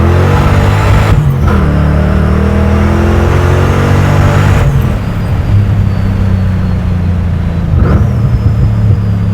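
A 700-wheel-horsepower supercharged SVT Mustang Cobra accelerates hard from inside the cabin, its loud droning engine climbing through the revs with supercharger whine, dropping briefly at two gear shifts before pulling again.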